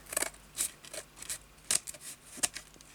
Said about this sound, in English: I'm going to cut this up here.